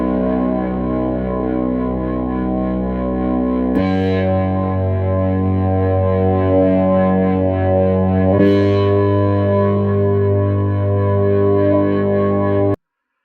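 Electro-Harmonix Bass Mono Synth pedal droning a thick, distorted sustained synth bass tone, with three held notes changing pitch at each pluck, loud and close, ending abruptly.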